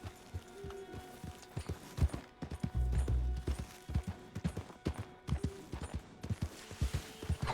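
Horse hooves clip-clop at a steady walking pace in the video game Red Dead Redemption 2, with faint creaks and a brief low rumble mixed in.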